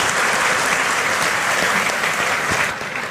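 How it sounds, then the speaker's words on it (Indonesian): Strong, continuous applause from a large audience at a Quran study gathering, many hands clapping densely and evenly before tapering slightly at the end. "Kita beri tepuk tangan Bapak."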